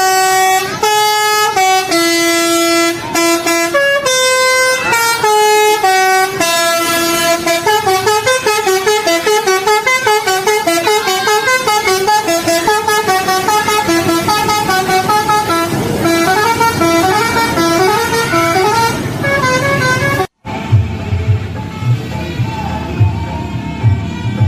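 A Sudiro Tunggal Jaya bus sounds its telolet musical air horns: loud, bright tooting melodies in quick repeated phrases for about twenty seconds. A sudden cut then gives way to low engine rumble.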